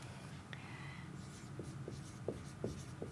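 Numbers being written by hand on paper during a first-grade place value lesson on the teen numbers, heard as a few short, faint strokes and taps against a low background hum, with no talking.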